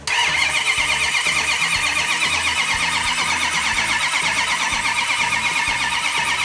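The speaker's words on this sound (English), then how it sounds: "Let's crank it over for a little bit" A 426 Hemi V8 being cranked over on the starter without ignition, a loud, steady rhythmic churning that holds at an even pace for several seconds with no firing.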